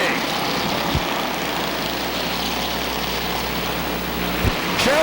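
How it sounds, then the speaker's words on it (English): Enduro race cars at a 1996 Calgary oval race roar steadily as the field takes the green flag, a loud continuous engine drone with crowd and track ambience, with a commentator's voice faintly present. "Jim Oakley gives them the double green flags, and we are racing"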